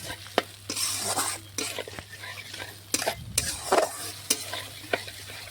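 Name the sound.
spice paste being sautéed and stirred in a pan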